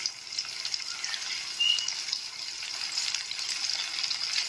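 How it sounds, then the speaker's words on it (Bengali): Masala of cumin, dried chili and turmeric powder frying in a pan for a paneer curry, a steady bright sizzle with crackling bursts, fairly loud and continuous, no talk. "এই মশলাটাকে আমরা ভালো করে কষে নেবো, ভালো করে 2 থেকে 3 মিনিট ভালো করে ফ্রাই করে নেবো"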